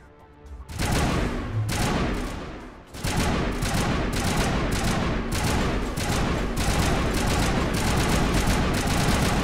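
Sustained gunfire from the video game Mass Effect Legendary Edition, rapid repeated shots in dense bursts after a quiet opening, loud and continuous with a brief dip near the three-second mark.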